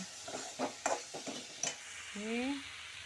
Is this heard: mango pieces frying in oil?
yes